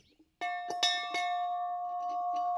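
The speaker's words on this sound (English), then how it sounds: "all I know is a school bell. It's about a 14-inch diameter." An old cast-metal school bell about 14 inches across is struck several times, and a bright, sustained ringing tone with clear overtones hangs on and slowly fades. Faint voices are heard just before the first strike.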